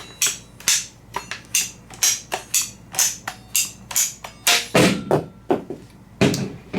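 A ratcheting PVC pipe cutter is squeezed repeatedly to cut through PVC pipe, giving a steady series of sharp, close clicks and snaps, roughly two per second, with a louder crunching snap near the end as the blade pushes through.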